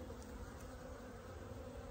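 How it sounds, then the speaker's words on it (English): Honeybees from a three-pound package buzz steadily as they are shaken out into a hive, a dense continuous hum held at an even level for the whole stretch with no talking. "Just gonna shake these bees out here"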